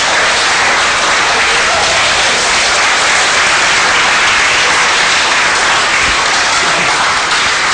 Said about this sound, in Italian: facciamo un applauso per questa loro collaborazione.